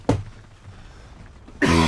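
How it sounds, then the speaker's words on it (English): A single sharp cough rings out close to the microphone, followed by a brief pause and the start of another burst of coughing or throat noise at the end. "Sorry about coughing that."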